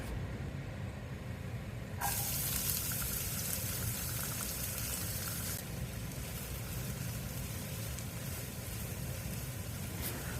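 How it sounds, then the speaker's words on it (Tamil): Chopped onions, green chillies and curry leaves sauté in a pan; a quiet simmer gives way to a sudden bright, loud sizzle as they go in, then a continuous frying hiss. "வெங்காயம் 30லேருந்து 40 செகண்ட்ஸ் வரைக்கும் வதக்கினா போதும், கலர் மாற வேண்டாம்"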